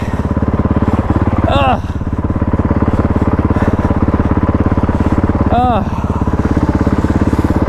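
Enduro dirt bike engine running steadily and loudly up close, a continuous pulsing mid-pitched drone with brief revs, while someone talks over it.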